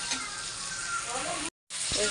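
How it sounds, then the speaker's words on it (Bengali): Potatoes fry in hot oil with whole spices such as bay leaf and dried chili, producing a close, bright crackling sizzle that drops out briefly before resuming. "আলুটা দিয়ে দিয়েছি এটা ভালোভাবে ভাজা হয়ে গেলে মশলা দিয়ে দেবো"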